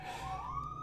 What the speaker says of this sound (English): I apologize for the sirens. Had an ambulance going by my house.